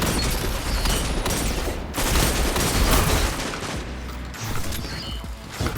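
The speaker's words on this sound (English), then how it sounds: "Another good thing with these hand cannons is you could just tap somebody in the head" Hand cannon and shotgun fire in Destiny 2 come as dense, overlapping bursts of shots and booms that run almost without a break, loud and close, with no talk over them.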